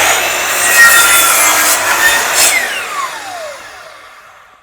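A mitre saw cuts through a piece of wood with a loud, close, rasping whine that holds steady for a few seconds before the blade spins down and fades out.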